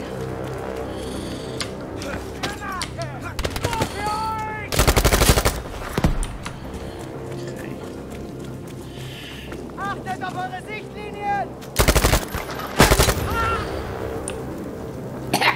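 Gunfire from the video game Battlefield V: loud, broadband bursts of shooting around five seconds and again near twelve to thirteen seconds, over steady in-game ambience, with someone talking between the volleys.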